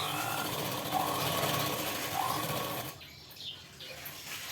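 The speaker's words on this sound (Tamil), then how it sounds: "இந்த ஓரம் வரைக்கும் ஒரு நெட்டு தையல் இப்படி போட்டுட்டோம்" Domestic sewing machine running a straight stitch along a blouse seam, a steady fairly loud whir that drops off near the end, leaving faint handling noise.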